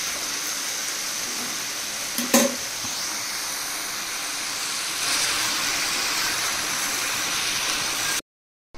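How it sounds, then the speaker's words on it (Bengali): Home-grown leafy greens sizzle in a frying pan with a steady, even hiss, broken by a brief louder clatter partway through before the sound cuts off. "এবার এটা ভালো করে ভাজা হবে"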